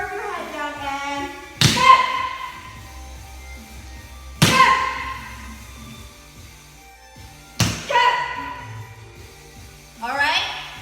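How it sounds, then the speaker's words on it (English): Taekwondo break falls land on the mat three times, each a sharp, loud slap with a thud, spaced a few seconds apart. A voice talks quietly between the impacts, and a fourth slap begins at the very end. "slapping the mat distributes the weight across your arms"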